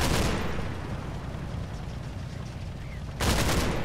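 Gunfire in the wartime tactics game Combat Mission: Battle for Normandy, a loud broadband burst of shots opening the moment, easing into a sustained rumbling backdrop, then a fresh heavy volley near the end.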